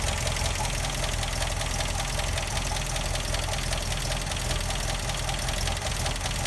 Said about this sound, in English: So we're going to lower the idle fractionally.